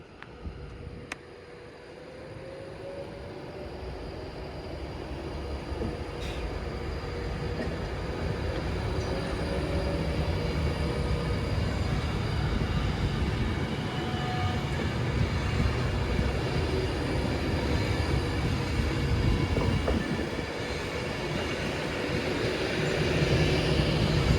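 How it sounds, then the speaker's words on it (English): A Class 390 train, unit 390049, departs Stoke-on-Trent for Manchester Piccadilly with a broad, steady rumble that slowly builds, faint tonal whines riding over it and a brief sharp click near the start. "390049, now railing off to Manchester Piccadilly."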